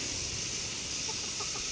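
A mother hen gives a few faint, brief clucks near the end of a short stretch of steady outdoor background hiss.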